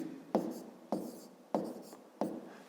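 A pen scratches numbers onto paper during a fifth-grade maths exercise, four short strokes each starting with a sharp tap and trailing off, quiet and close.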